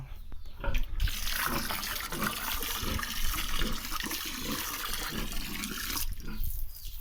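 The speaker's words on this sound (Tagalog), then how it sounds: "ito po yung aking pump ng motor para po sa bahang" A motor-driven water pump pushes a strong, steady rush of water in a gushing stream at a rural house, loud and continuous, with a short break in the flow near the start.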